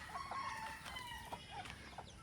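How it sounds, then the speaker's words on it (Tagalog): Native chickens clucking outdoors at a rural yard, faint and distant, with short calls scattered over steady background noise. "Native chicken."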